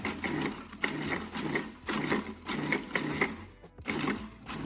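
A food processor pulses graham crackers into crumbs for a key lime pie crust, giving about six loud, rhythmic grinding bursts separated by short pauses.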